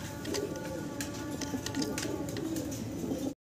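Pigeons kept in pairs at a pigeon farm coo softly and repeatedly, a low, steady murmur of calls nearby that runs throughout before cutting off at the end.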